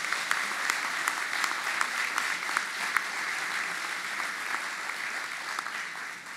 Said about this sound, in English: Let's give a round of applause for our faculty and staff.